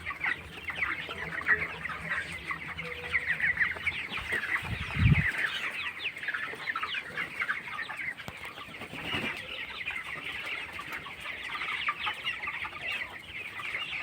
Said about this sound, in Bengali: ব্রয়লার মুরগি